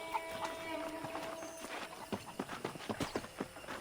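Horses trotting in the Red Dead Redemption western video game, their hooves clip-clopping in a quick, uneven rhythm that grows denser over a soft background bed.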